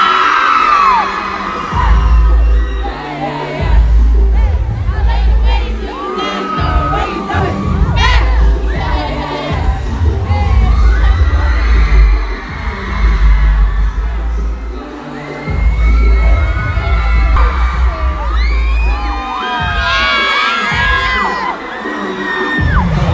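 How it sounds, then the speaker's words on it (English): A packed front-row concert crowd at an Invitation Tour show in Dallas screams and cheers loudly and continuously, with high shrieks and whoops over heavy booming bass from the stage. "And then everyone started screaming really loud."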